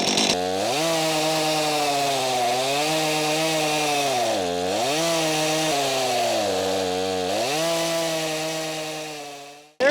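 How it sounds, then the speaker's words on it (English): Chainsaw cutting freehand into a wood slab, a loud, close, continuous whine whose pitch dips and rises repeatedly as the bar bites and eases, cutting off abruptly at the end. "you got to make sure you don't tilt your chainsaw"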